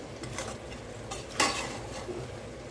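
Gongura pickle is stirred in hot oil in a pan, a spoon scraping and sizzling softly at close range with one sharper scrape in the middle.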